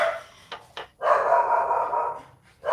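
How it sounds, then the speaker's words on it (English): Dogs barking at wildlife seen through house windows: a couple of quick short barks, then a longer sustained bark or howl, and another bark starting at the end, fairly close and without talk. "These dogs are going to drive me nuts."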